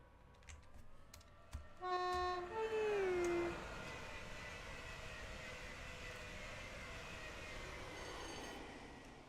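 A train in Train Sim World 5 on the Preston–Carlisle line gives a couple of short horn toots, then a steady, faint rumble of rolling wheels and engine carries on to the end.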